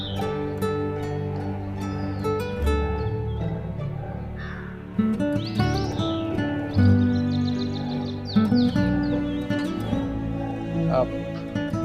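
Birds chirp and tweet all around outdoors, with some crow-like caws mixed in, a busy continuous chorus over a low background hum.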